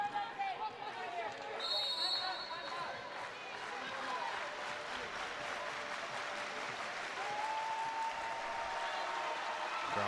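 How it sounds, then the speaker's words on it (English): Crowd cheering and applause fill a women's college volleyball arena during a UC San Diego vs Hawaii match, a steady roar of noise with a commentator talking over it. "Crowd making some noise."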